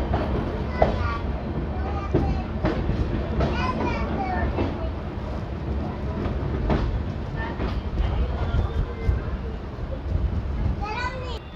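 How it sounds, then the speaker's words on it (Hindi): A passenger train pulls away from platform five at Lalkuan station, its steady rumble and clatter filling the scene while nearby voices and children chatter throughout. "हमारी ट्रेन का डिपार्चर हो रहा है प्लेटफॉर्म नंबर पाँच से"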